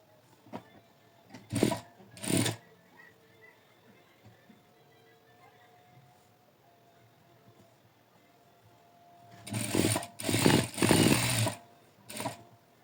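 A sewing machine stitches a kitchen apron in short bursts: two quick runs early, then a longer stretch of several close, loud runs near the end, with quiet gaps between and a little speech.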